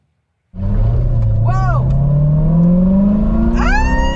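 A Chevrolet C7 Corvette Z06 engine starts and drones steadily from inside the cabin, its pitch climbing slowly as the car gathers speed, with a voice speaking briefly over it.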